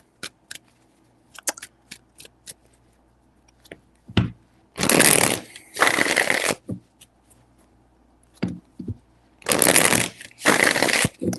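Tarot cards being shuffled close by in several loud riffling bursts, mixed with sparse clicks and taps from handling the deck between shuffles.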